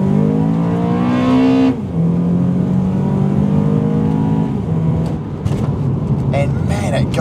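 A modified automatic Honda Accord Euro pulls hard, its engine note climbing in steady rising harmonics with a brief shift dip, loud and close inside the car, while someone talks over it throughout.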